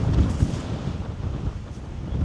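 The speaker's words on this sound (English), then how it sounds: "it's bloody windy" Strong wind on the Stirling Range ridge in Western Australia buffets the microphone in a continuous, loud low rumble with gusty fluctuations.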